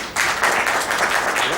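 Audience at a Dhanwantari gathering breaks into brief, dense applause, a close burst of many hands clapping that starts abruptly and holds steady to the end.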